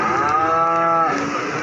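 A single sustained moo from a cow at the Wage cattle market in Pati, Central Java, with rain falling, loud and near, fading toward the end.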